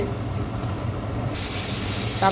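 Spice paste with panch phoron hits hot oil in a pan, setting off a loud, steady sizzle that jumps to a bright, harsh hiss midway and keeps going.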